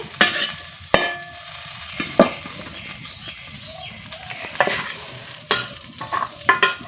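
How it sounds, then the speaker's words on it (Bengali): Potato-chickpea filling for kachori being stirred and cooked in a pan, with scraping stir strokes at irregular intervals over a low, steady sizzle, close and fairly loud, with no talking. "এই লবণটা দিয়ে একটু নাড়াচাড়া করে এই পুরটা আমি রান্না করে নামিয়ে নেব"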